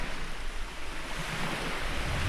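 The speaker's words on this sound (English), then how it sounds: "Beautiful afternoon here at Wonga Beach, Far North Queensland" Waves rolling onto Wonga Beach in Far North Queensland on an afternoon, a continuous broad wash of surf with wind, steady and fairly soft, with no voices.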